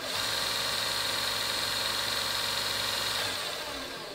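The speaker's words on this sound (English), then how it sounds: "it seems to have a precision sound to the motor" A 1x30 belt sander's motor runs with a steady, even whir at close range, easing off slightly near the end.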